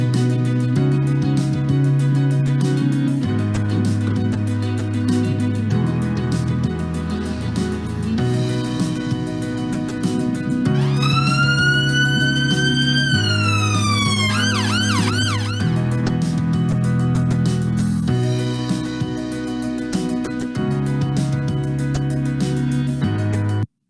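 An ambulance siren rises in a long wail and then switches to a rapid yelp, heard over steady background music for several seconds before the music carries on alone.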